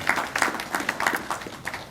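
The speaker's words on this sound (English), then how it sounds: "And you all deserve a round of applause for that." An audience at a talk on Western democracy and the Middle East gives a round of applause, with scattered, uneven claps rising and falling in a thin, moderate burst.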